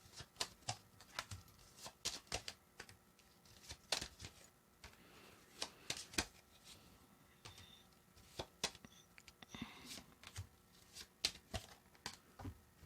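Tarot cards are shuffled by hand close up, a quiet, irregular run of crisp riffles and snaps with short pauses between bursts.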